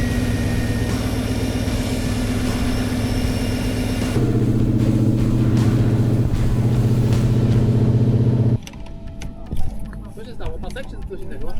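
A rally car engine is revved hard and held at high revs, loud and close, then cuts off abruptly, leaving quieter workshop-like background noise with people talking.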